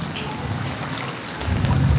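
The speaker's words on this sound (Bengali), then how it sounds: "দেখুন একে কি বৃষ্টি বলে।" Heavy downpour with thunder on a street where floodwater is collecting, a dense steady roar of rain that swells louder toward the end, deep rumbling underneath and no voices.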